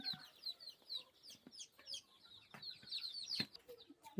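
Desi hens on a poultry farm give frequent soft clucks and short chirping calls close by, some overlapping, with a few brief rustles and no talking.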